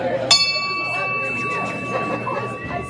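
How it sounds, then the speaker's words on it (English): Meeting bell struck once, a sharp clang followed by a long ringing tone that sustains through background voices and room noise. "warn our guest speakers about the ring of the bell tone"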